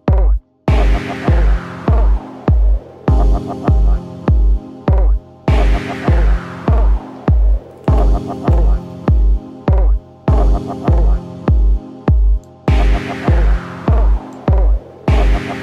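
A loud, punchy electronic kick drum from the Hammerhead Rhythm Station iPad drum machine pounds out a steady four-on-the-floor beat, deep and booming, with a short gap between repeating bars.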